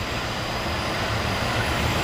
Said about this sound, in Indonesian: kan segera melintas kereta api Kamandaka dari Semarang Tawang Bang Jateng ya teman-teman, tujuan akhir stasiun Cilacap.